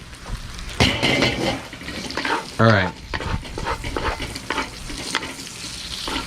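Pork belly frying in a pan, a close, continuous sizzle and crackle with scraping and stirring strokes and one brief louder splash of fat partway through.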